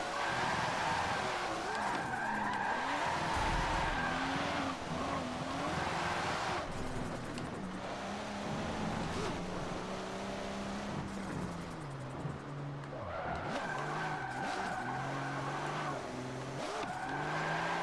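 A widebody Nissan R31 Skyline GTS-R drifts in fifth gear in Forza Motorsport 7, its steady engine drone rising and falling beneath long, continuous tire squeal that swells and eases through the slide.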